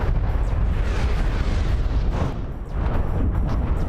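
Missile explosions from the mech combat video game MechWarrior Online form a dense, continuous rumbling barrage of blasts, loud and close throughout with only a brief dip near the end.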